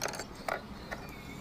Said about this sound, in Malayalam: ആദ്യം ബോബിൻ എടുക്കുകയാണ് ബെറ്റർ കേട്ടോ